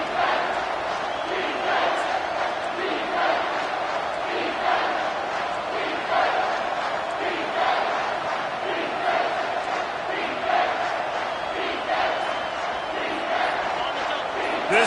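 Video game football crowd filling a stadium during a Michigan State versus Notre Dame matchup, a steady roar of cheering and chanting that swells in big moments, continuous throughout at moderate distance.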